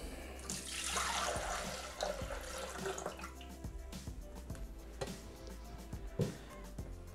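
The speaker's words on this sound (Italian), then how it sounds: "versiamo l'acqua all'interno." Water pours steadily into a Thermomix mixer bowl for a few seconds, followed by quieter trickles, small drips and light clinks close by.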